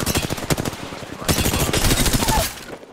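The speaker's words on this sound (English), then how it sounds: "Shots fired." Rapid automatic gunfire in a video game 1v1 fight, dense bursts of shots rattling continuously for about three seconds, loud and close with a brief dip before a second heavy volley.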